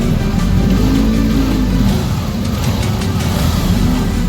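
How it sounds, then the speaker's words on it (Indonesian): A Honda Vario 150 scooter engine starts and keeps running close by, a loud steady mid-low drone with a slight rise in the first seconds, alone without talk. "Kemudian starter hidup."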